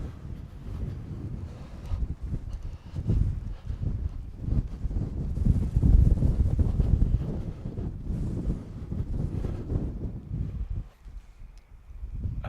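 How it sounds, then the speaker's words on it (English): Strong gusty wind buffeting a microphone outdoors near the coast, a heavy low rumble that swells and eases across several seconds, loudest in the middle and dropping briefly near the end, with no talking. "very windy"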